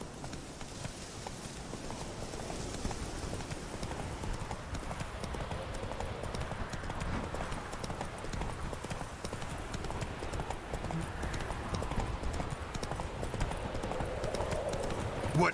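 Horse hooves clip-clop at a steady galloping rhythm through an outdoor scene in The Witcher 3, continuous and fairly close, with some faint background voice and ambience underneath.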